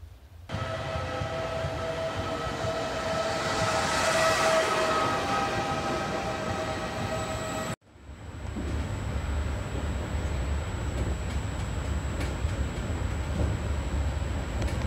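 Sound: train

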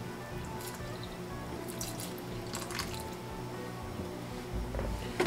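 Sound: watering a potted plant in Ikea greenhouse

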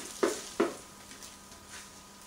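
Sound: omelette cooking in pan

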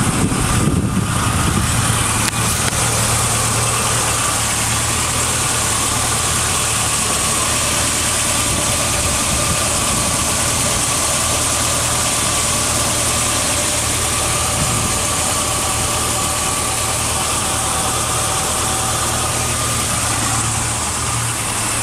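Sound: 1987 Itasca Phasar RV motorhome engine idling

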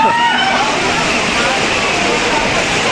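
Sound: water splashing as a theme-park ride passes under a waterfall

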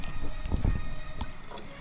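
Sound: water running while filling an alkaline water dispenser

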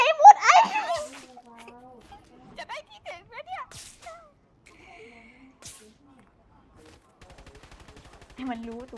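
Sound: gunfire in the video game Fortnite

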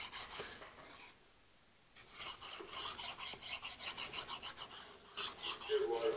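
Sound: finer file filing a metal lathe compound

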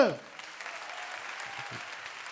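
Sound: audience applause for two MCs at a rap battle

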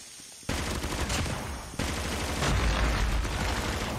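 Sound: gunfire in video game Call of Duty Mobile

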